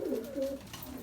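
Pigeons cooing inside a loft of about 86 birds, a steady low layered cooing from several birds close by, with no talk.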